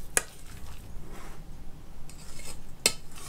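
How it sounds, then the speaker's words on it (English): A utensil clinks against a bowl twice while meatball sub ingredients are stirred, with soft, wet mixing sounds between the two sharp taps. "you're going to stir it up"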